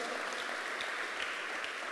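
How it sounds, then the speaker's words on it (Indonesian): Church congregation applauding together, a steady dense wash of many hands clapping at a distance with no voices over it. "Tepuk tangan bagi Allah kita."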